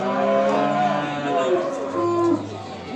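A calf moos loudly and close at a livestock market in Beylagan, one long drawn-out bellow with rising and falling pitch, followed by a quieter tail of market noise.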